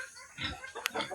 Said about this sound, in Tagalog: naatay manok diri